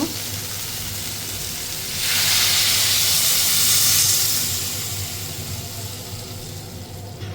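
Water is poured into a pan of frying vegetable curry, setting off a loud rising hiss of steam and sizzling that swells for a couple of seconds, then settles back to a steady simmer.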